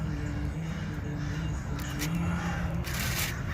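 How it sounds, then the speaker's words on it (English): A crow caws repeatedly outdoors, harsh calls rising over a steady hum of background noise, fairly close and loud in short bursts. "Mama Crow is acting crazy."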